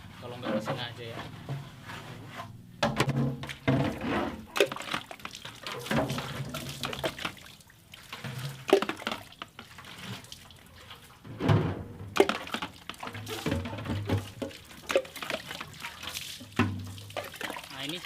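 Water is poured into a container so its inside can be scrubbed during a refill job, with intermittent splashing and trickling under a person talking throughout.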